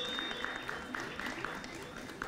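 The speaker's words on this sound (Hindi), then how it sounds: "तो एक बार जोरदार तालियां हो जाएं हमारे प्रतिभागी के लिए भी" An audience at a televised quiz show applauds a contestant with light, steady clapping in a studio, moderately quiet, while a faint high tone runs underneath.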